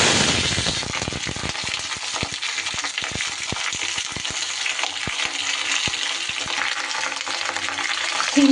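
Washed flat beans dropped into hot mustard oil crackle in a loud, dense sizzle, with sharp pops and spatters from leftover water bursting through the steady frying hiss.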